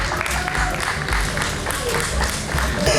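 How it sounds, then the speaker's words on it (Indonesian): Crowd applause at a film festival talk show in Denpasar, Bali, a continuous busy clatter of clapping with some crowd noise and a voice mixed in underneath. "kita kasih tepuk tangan yang meriah"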